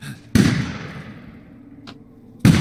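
Gunfire in the video game Resident Evil Village: two sharp, loud shots roughly two seconds apart, each ringing out with a decaying tail, plus a faint click in between, with no talking.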